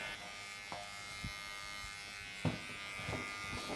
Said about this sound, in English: Now I'm going to blend the number 4 in with some clipper over comb